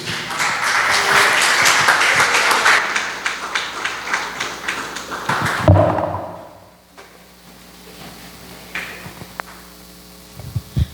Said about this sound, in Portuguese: as palmas no nome do Senhor Jesus.